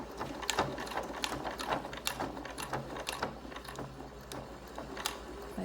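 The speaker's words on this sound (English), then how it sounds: "My sewing machine doesn't really like that," A home sewing machine strains as it stitches through thick fabric and ribbon for a face mask, its rapid mechanical clatter running steadily throughout at moderate level with no talking.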